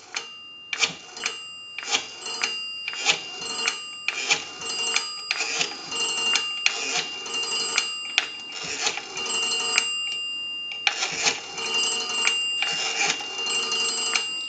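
A rotary dial on a 233G three-slot payphone is spun and released over and over, each number clicking back in a quick rattling pulse train. Steady tones hum underneath, and no one speaks.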